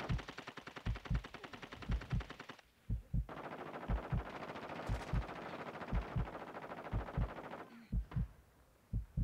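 Rapid bursts of automatic gunfire in the video game Warzone 2.0, loud, repeated volleys of sharp shots with brief pauses between them, steady and close throughout.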